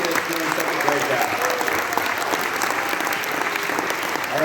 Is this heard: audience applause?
yes